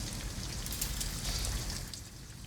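Steady rain pours down in the Detroit: Become Human video game, a dense hiss of drops on surfaces running evenly throughout with no voices.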